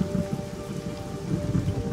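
Desert rain and a thunderstorm in Namibia, a steady dense patter of rain with low rolling thunder rumbling beneath it, close and continuous throughout.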